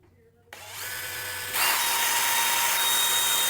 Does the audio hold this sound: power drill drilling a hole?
yes